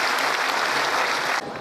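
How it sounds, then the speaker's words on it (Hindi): Thick, steady applause from a large audience welcoming a guest at a community mass wedding ceremony, close and uniform, dropping slightly in level near the end of the short burst. "जोरदार तालियों से इस्तकबाल कीजिएगा।"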